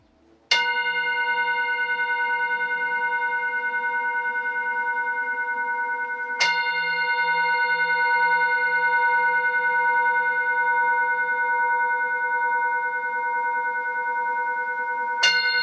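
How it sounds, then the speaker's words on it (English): A clear bell rings three times at slow, even intervals, each strike sustaining a long, pure tone that fades gently before the next. "listen to the sound of the bell that calls you back to your true home"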